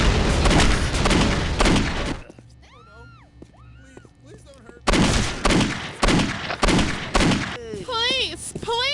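In the video game Postal 2, gunfire strikes an exposed above-ground gas line, setting off loud booming blasts and bursts, with stretches of voices between the explosions.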